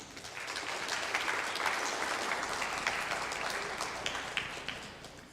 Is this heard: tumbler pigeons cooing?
no